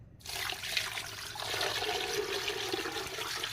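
Water pouring steadily into a pot of pork skin with onion, bay leaves, pepper and salt, set for boiling in a pressure cooker; a continuous splashing rush starts abruptly after a brief silence and runs throughout, loud and close.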